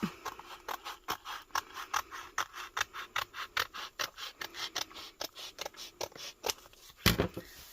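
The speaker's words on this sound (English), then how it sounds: "And then just take your scissors and cut." Scissors snip steadily through a thin sheet of vinyl, about twenty sharp, rhythmic crunching cuts close to the microphone, with a louder final snip near the end.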